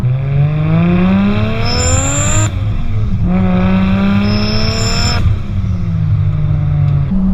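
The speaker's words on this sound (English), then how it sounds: "What a sound this car makes!" Turbocharged Lexus IS200 with a six-speed gearbox accelerating hard in first gear, engine note rising loud and close, then a brief break and a second climbing rev run, ending in a falling tone.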